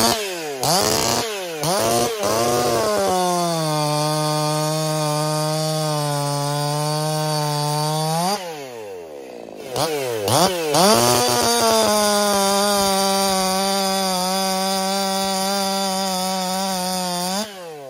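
Chainsaws are run and tested cutting wood: a loud, close engine whine that revs up and holds steady for several seconds, drops off briefly, then revs and cuts again with sustained buzzing.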